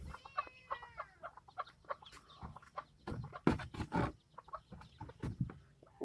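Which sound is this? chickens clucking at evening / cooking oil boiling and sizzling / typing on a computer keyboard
chickens clucking at evening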